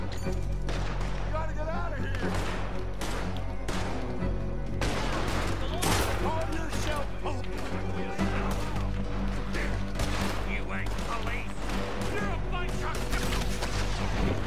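Repeated gunfire from the Western video game Red Dead Redemption 2 during a shootout with lawmen, loud sharp shots in rapid, irregular bursts throughout, with a voice talking over the action.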